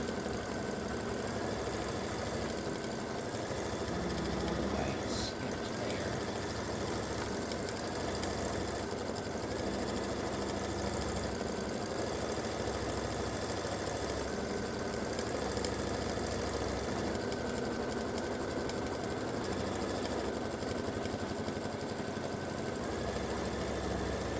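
A computerized quilting machine runs steadily while stitching an edge-to-edge peace symbol and flower design, giving a continuous mechanical hum with a fast rhythmic needle chatter, close and unbroken throughout, with no talking.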